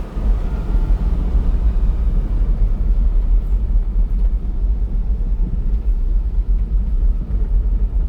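A Daihatsu Hijet mini dump truck crawling in four-wheel drive on a muddy West Virginia track, its small engine giving a steady, close, loud rumbling drone throughout.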